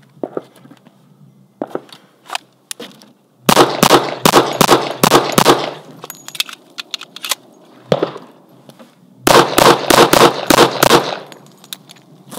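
Springfield Armory 1911 Operator pistol fired at an outdoor range: two rapid strings of about six sharp, loud shots each, split by a tactical reload with a few scattered clicks and handling sounds in the gap.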